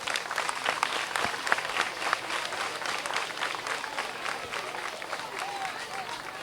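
An audience applauds at a school ceremony in Ouidah where laboratory equipment is donated. The clapping is dense and sustained, with a crowd murmur and a voice beneath it, and it eases slightly toward the end.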